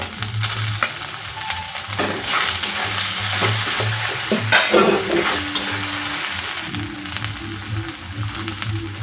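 Close sizzling of chopped tomatoes frying in a pan with spice paste, with repeated scraping and clattering strokes of stirring over the steady crackle.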